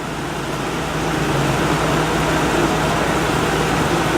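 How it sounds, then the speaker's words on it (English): A living-room air conditioner runs loud with its fan on high, a steady broadband whoosh with a low hum that swells slightly after the first second and holds constant. "This air conditioner is much louder and the fan is really chugging on high."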